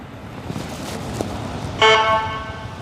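Night city street traffic in Philadelphia rumbles steadily, a car passing amid the road noise, followed by a short, loud horn toot near the end.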